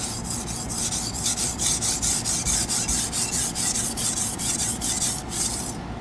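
Huge 600-layer Damascus Chinese cleaver drawn across a 320-grit sharpening stone in steady, rapid strokes, a close, continuous gritty scraping with no talk.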